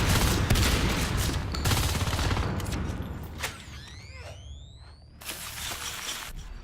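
Shotgun blasts and rapid weapon fire in a Natural Selection 2 match, a dense, loud stretch of overlapping shots and impacts, then a short lull with whistling sweeps before more gunfire resumes.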